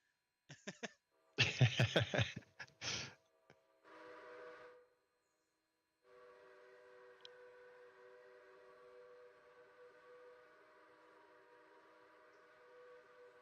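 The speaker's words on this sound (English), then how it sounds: "We just got our whistles cracked open on the lowest setting, just holding them open." In the Railroader video game, loud steam whistle blasts give way to a long, quieter, steady whistle tone held barely open on its lowest setting.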